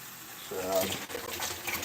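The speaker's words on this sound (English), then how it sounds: "I'm gonna add my water" Water pours steadily into a bowl of Jamaican saltfish fritter batter seasoned with black pepper, a close, soft splashing gush lasting about two seconds, with a brief murmur of voice partway through.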